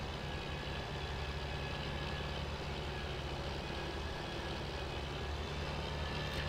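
A steady low tractor engine idle rumbles continuously in Farming Simulator 17, a heavy machine running in place with a constant drone and no change in pace.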